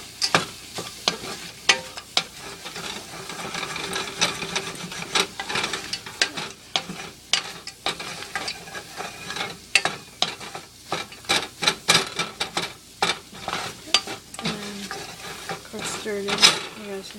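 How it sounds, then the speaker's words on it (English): Bacon and eggs stirred in a hot pan, repeated scraping and clinking strokes in an uneven rhythm over a constant sizzle, close and without talk. "You guys can see all the bacon and the eggs here. I'm gonna stir it down the bottom a little bit."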